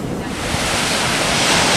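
Ocean surf washes onto a California beach in a steady, loud roar, with gusting wind buffeting the microphone and no voices.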